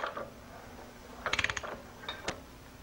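A Harley-Davidson Shovelhead primary chain turned slowly by hand gives a short cluster of close metallic clicks and ratcheting ticks, followed by a couple of isolated clanks over quiet workshop background.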